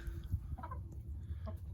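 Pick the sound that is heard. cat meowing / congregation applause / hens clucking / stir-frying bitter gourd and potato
hens clucking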